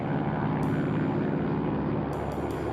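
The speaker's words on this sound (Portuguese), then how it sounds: "O Saratoga é um avião monomotor a hélice." A Piper Saratoga single-engine propeller airplane in flight gives a loud, continuous engine and propeller drone that holds steady throughout with no voices.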